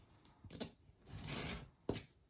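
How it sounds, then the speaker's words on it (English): Scissors snip paper cut to size for a book cover: two sharp close clicks of the blades with a soft sliding rasp of paper between them, quiet and without talk. "So we'll just cut this to size."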